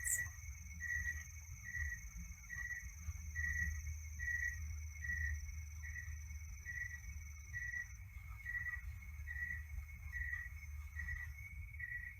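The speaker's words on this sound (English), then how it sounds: "simply receive the sounds of the crickets" Crickets chirp in a steady, evenly spaced pulse, faint and distant over a low background hum, with no voices.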